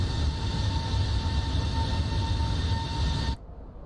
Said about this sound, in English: Shouldn't be this loud in the cabin. Sounds like I'm right next to the engine.